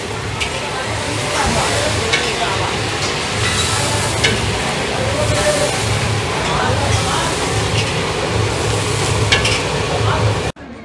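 Broccoli and poppy-seed potatoes cooking over a wood-fired clay stove, a steady crackling, stirring bustle with low rumbling throughout, fairly close, with faint talk in the background.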